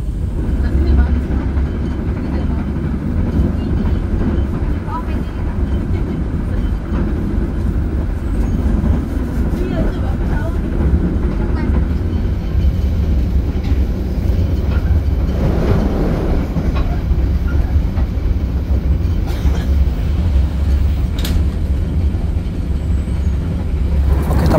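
A passenger train rumbles along the rails with a steady low roar and faint clacking, heard from inside an economy carriage of the Gajah Wong train between Kroya and Yogyakarta, Indonesia, with voices murmuring under the noise.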